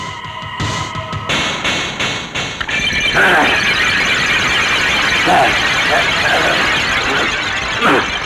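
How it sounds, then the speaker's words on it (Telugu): A loud man's cry of pain as brandy splashes on his wounds rises over a dense, clattering background, followed by sustained shouting and harsh noise throughout. "చిట్లిన ఒంటి మీద ఈ బ్రాందీ చిందితే అరుపు ఆకాశానంటుతుంది"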